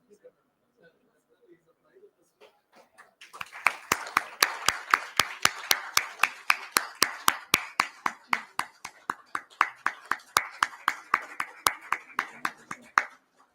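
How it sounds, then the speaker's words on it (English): Rhythmic clapping from an event audience, steady sharp claps in a regular beat starting after a few quiet seconds and continuing near and loud to the end. "A big round of applause."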